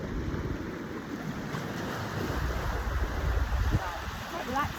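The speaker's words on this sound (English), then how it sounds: "especially with the sound of the ocean" Ocean waves wash in the background, a soft, continuous rushing surf with gentle swells, faint and low under the quiet setting.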